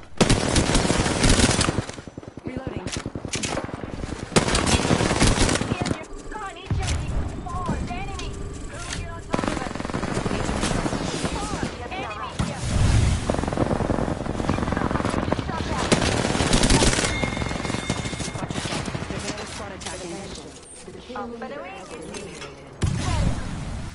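Apex Legends gunfire on the World's Edge map, with loud rapid automatic bursts and single pistol shots close up, mixed with other game effects while a player talks over the action.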